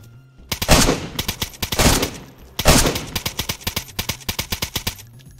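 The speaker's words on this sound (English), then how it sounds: "But he's shooting through the tent!" Rapid automatic gunfire in the video game DayZ, fired from just outside a tent: loud bursts of quick shots, then a steady rhythmic string of single rounds, with no talk over it.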